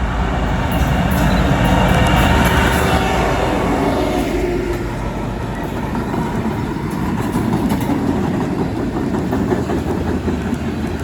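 A freight train hauled by tunnel motor locomotives rolls past on a short line, a loud sustained rumble and clatter of cars that stays steady throughout.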